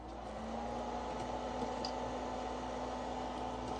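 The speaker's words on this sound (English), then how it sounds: "I'm going to let that dry just a little bit longer under the air dryer before I put a top coat" A nail polish air dryer runs steadily with a constant whirring hum and airflow hiss, close and unchanging, with no talking.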